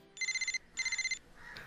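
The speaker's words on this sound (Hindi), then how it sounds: "अगली सुबह नीलू का फोन आया।" Telephone ringing in two short electronic trills, each a rapid pulsing burst, clear and moderately loud, followed by a faint rustle.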